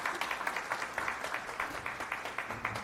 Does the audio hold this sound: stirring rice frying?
no